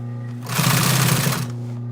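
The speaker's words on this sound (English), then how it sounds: "And then I'm sewing that down." A sewing machine runs in a steady one-second burst, stitching mesh down for a yacht cushion, with a constant mechanical hum before and after.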